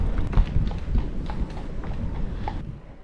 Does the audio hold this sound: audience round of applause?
no